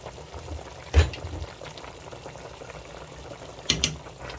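Chicken pepper soup bubbles in a pot, a soft continuous simmer with a couple of sharper knocks or stirs.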